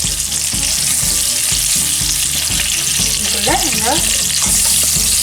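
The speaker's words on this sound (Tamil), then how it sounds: "மஷ்ரூமை போட்டு வதங்க விடுவோம்." Mushrooms sautéing in hot oil in a pan for a mushroom masala, giving a loud continuous sizzle with rhythmic stirring, and a voice briefly speaking over it.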